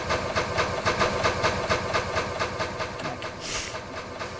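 Steady rhythmic chugging of a train engine running in the Rails of War mod for Minecraft, a dense, even rumble with regular pulses and no talk.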